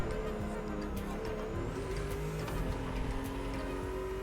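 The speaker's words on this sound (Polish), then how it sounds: "ogólnie dźwięki samochodu, dźwięki turbo, dźwięki opon wydają mi się lepsze niż w Fordzie" A racing car engine in The Crew Motorfest drones steadily with a high whine and turbo sound, tyres hissing over the road, with no talking.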